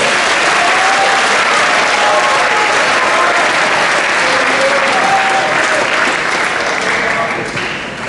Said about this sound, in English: Round of applause for himself.